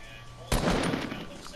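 A single gunshot fired in the Fortnite video game rings out sharply and close, its burst leaving a short ringing tail under faint background noise.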